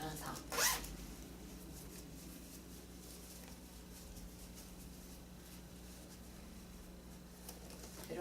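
A zipper slides open on the canopy of a Gram Plus stroller: one sharp, close rasp near the start, then soft handling noise over a steady low hum.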